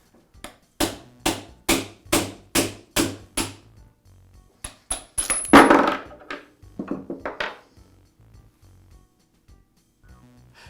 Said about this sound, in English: now I'll tap the shaft out of the bearing